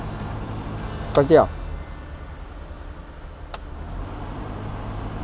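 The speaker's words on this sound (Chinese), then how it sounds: "我如果把冷气打开，我现在开送风开强的话，我们听到的声音" Mercedes-Benz W126 300SEL with a faulty air-conditioning blower fan running on high, giving a steady whooshing drone throughout, with a brief spoken word and a faint click partway through.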